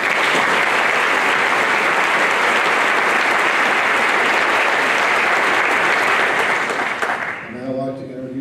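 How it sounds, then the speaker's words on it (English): Sustained, loud audience applause fills an honors ceremony hall, a dense wash of many hands clapping steadily before tapering off near the end as a voice begins over the fading claps. "Let's give a round of applause."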